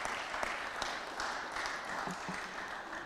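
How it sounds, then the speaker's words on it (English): Applause for sponsors at a resolution presentation fills the room steadily from start to end, a dense mid-level wash of many hands with scattered sharper claps and faint voices mixed in. "So let's give a round of applause to our sponsors."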